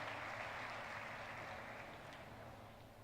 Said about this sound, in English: Let's give him a big round of applause once again for his kind gesture.